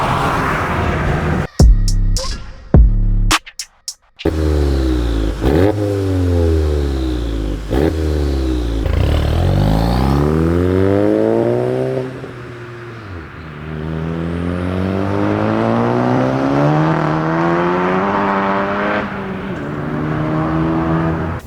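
A 500hp Audi S3 engine accelerates hard through repeated gear pulls, each rising sweep of the revs ending in a shift, loud and close with brief cuts between runs.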